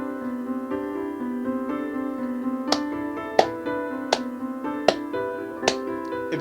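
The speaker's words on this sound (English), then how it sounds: "If you couldn't hear that, I was clapping." Several sharp hand claps ring out at uneven intervals over steady tonal music, each one crisp and close.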